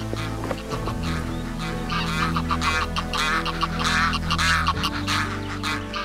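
A gaggle of geese honks continuously up close, many overlapping calls layered over a lower chorus of murmuring birds as the flock gets restless before taking off.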